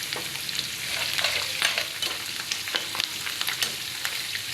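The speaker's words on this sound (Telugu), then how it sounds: "మనకి ఇంగువ కూడా వేసుకొని ఫ్రై చేసుకుందాం" Asafoetida sizzles in hot oil for a tempering, a steady crackling fry with scattered sharper pops and a few utensil scrapes, close and fairly loud, with no voices.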